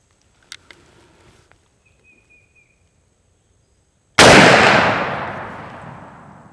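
A single loud, close rifle shot from a Henry X Model 45-70 lever-action firing a Lehigh Defense brass bullet, a sharp crack with a long decaying tail after a few faint handling clicks.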